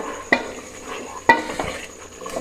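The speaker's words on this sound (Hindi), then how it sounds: "हुण असां घोटे नाल अच्छी तरह घोट गिनसूं गोश्त को" Cooked beef for haleem being mashed with a wooden masher in a pot, two sharp knocks with soft squelching and stirring between them, close and alone.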